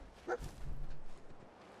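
A dog in Fallout 4 gives a short, soft bark followed by a faint low whine, quiet and brief against a hushed background.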